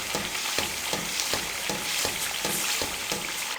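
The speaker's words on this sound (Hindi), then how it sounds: "अब उस वक्त तक अच्छे से भून लेंगे जब तक ये मसाला ऑयल ना छोड़ दे" Spice masala sizzling and frying in oil for vegetable biryani, a steady close crackle with regular scraping stirs roughly every half second.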